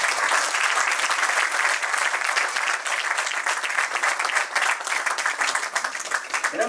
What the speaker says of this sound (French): On acclame davantage.